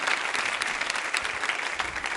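Loud, dense applause from a quiz show audience in a women's training institute hall, steady throughout as they clap for a contestant's correct answer.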